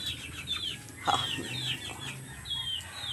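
Chickens and chicks cluck and cheep around a house, with repeated high chirps and a few lower clucks at close to moderate distance, steady throughout with no talking.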